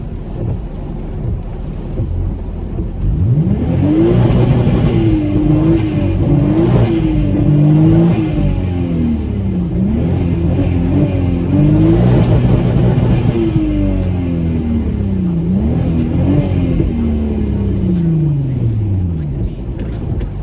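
A Volkswagen MK5 Golf R32 turbo with a misfire fault, blipped from idle: a steady loud engine drone rises and falls through several rev swells, close to the car, with a rushing, wind-like noise over it.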